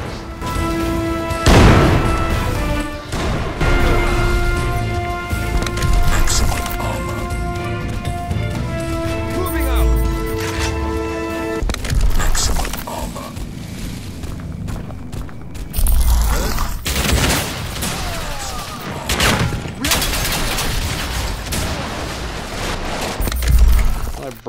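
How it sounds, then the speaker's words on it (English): In the game Crysis, grenades blast a building apart with heavy booms, crashing debris and shattering, while game tones and a voice talking run underneath over an extended, busy stretch. "Broke the whole fucking building."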